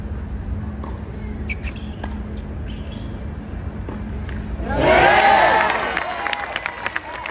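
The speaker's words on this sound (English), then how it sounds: "The crowd responded with a massive roar" Tennis fans at Porsche Arena break into a massive roar and cheering after quiet murmuring, the crowd noise swelling suddenly, peaking loudly, then tapering into scattered applause and chatter.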